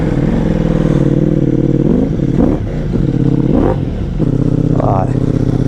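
A Ducati Multistrada V4 Pikes Peak with Akrapovic exhaust and dry clutch idles loud and close, its deep, lumpy V4 rumble rising in a few short throttle blips, with a voice talking briefly over it.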